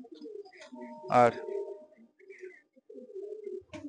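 Malwai pigeons cooing softly in a loft, low murmuring coos running through the background beneath a man's nearby speech.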